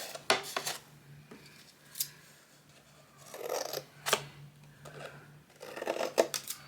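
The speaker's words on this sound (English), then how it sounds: "now I'm going to cut the back side here" Scissors cut the back side of a Mod Podge-coated paper craft in short, irregular snips and rustles, close and fairly quiet, with no speech.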